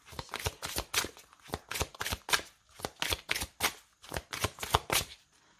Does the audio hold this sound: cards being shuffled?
yes